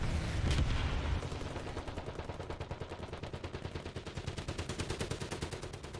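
An aircraft's machine guns fire during a strafing run in the War Thunder video game: a heavy opening blast, then sustained rapid rattling bursts that continue to the end, fairly close, with no talking.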